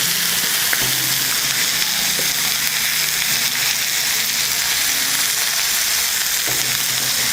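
Crushed spicy masala-coated fish fries in a pan, a loud dense unbroken sizzle close by, with a few faint knocks of a utensil against the pan.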